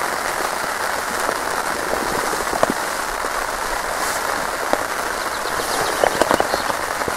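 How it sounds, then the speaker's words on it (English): Steady, heavy rain hisses over the whole stretch, with occasional sharper drops and taps standing out against the constant wash. "Yep, starts to rain a bit harder again."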